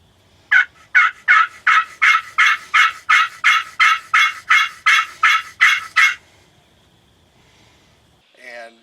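Wild turkeys gobbling along a tree line roughly 100 yards off, a rapid run of about fifteen evenly spaced, loud, rattling calls, followed by silence and a brief faint call.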